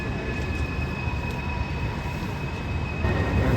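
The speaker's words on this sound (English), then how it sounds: "The front is coming out and the back of the train is going in." A train rumbles steadily out of a spiral tunnel in the mountains near Emerald Lake, Yoho National Park, British Columbia, with a continuous, fairly loud roar of railcars rolling past and faint wheel noise, and no voices.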